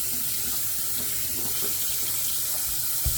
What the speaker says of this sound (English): Rinse this puck off real quick.